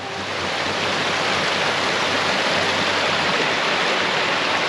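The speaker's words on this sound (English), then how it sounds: "I've got the stream down here" A mountain stream rushes in a sheltered valley, a loud, even broadband roar of flowing water that holds steady with no voices over it.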